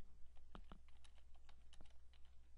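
Keystrokes on a computer keyboard while a virtual machine for Mac OS X is being set up on Windows, a handful of light clicks in irregular bursts, close and fairly quiet over a low steady hum.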